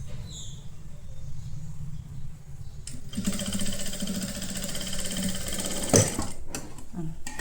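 A sewing machine stitches an A-line kurti in a steady mechanical whir that starts after a quieter moment and runs continuously, with a brief click partway through.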